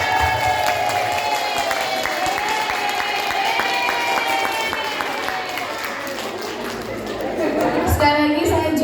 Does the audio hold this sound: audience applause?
yes